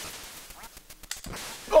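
Quacking from a duck in the Duck Hunt video game, short and close, mixed in with quick whip-like game effects before a louder squawk right at the end.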